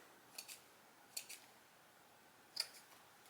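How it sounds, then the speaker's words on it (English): Scissors give a slight trim around the edges of Spanish moss on a pumpkin decoration: three soft, quiet snips spaced apart. "I'm just going to take my scissors and just a slight little trim around the edges"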